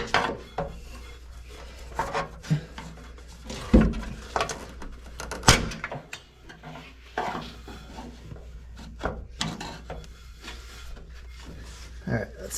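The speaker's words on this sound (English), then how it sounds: "I'm gonna start prying this filler neck off" Prying the fuel filler neck off a Geo Tracker during a fuel pump change, with scattered metallic knocks, scrapes and clunks in irregular bursts, fairly close, and someone talking intermittently over the work.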